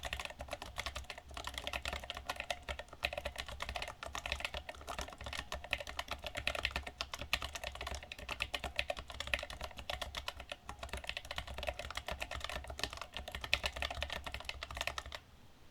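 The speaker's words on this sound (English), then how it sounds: "So we're gonna just go do a little typing test on it and see how it sounds." Rapid, continuous typing on a Chosfox x Masro Geonix48 mechanical keyboard with Choc Red switches, soft clacky keystrokes in a steady stream with occasional brief pauses, close up and alone.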